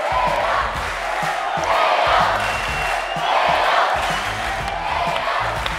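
Studio audience on The Voice Turkey roaring and cheering for a singing contestant, loud, sustained, with rhythmic chant-like surges and shouts.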